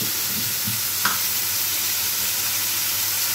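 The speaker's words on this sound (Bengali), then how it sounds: "একটু ভালো করে নাড়িয়ে দিই, ভাজা ভাজা হবে তো" Pointed gourd and potato fry in a pan and are stirred, a continuous even sizzle close by with a single brief scrape of the spatula early on.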